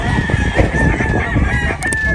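A rooster crows loudly and close at a game farm, one sustained call over a busy background of other fowl clucking.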